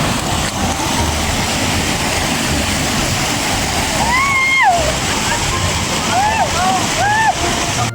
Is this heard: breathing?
no